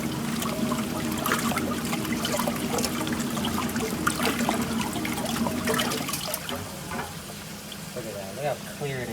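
Clear water trickles and splashes steadily from RV plumbing being unwinterized, a close, continuous wet hiss that thins and turns more sporadic and drippy toward the end.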